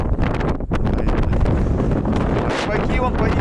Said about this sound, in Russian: что у нас ветра такие сильные на Урале